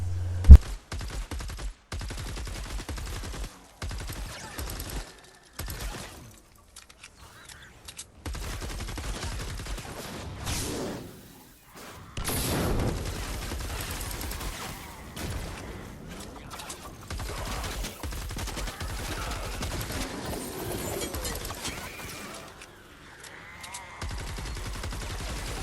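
Gunfire in Fortnite Save the World as husks are shot, with bursts of rapid shots and single cracks recurring in clusters over nearly half a minute, separated by brief quieter gaps.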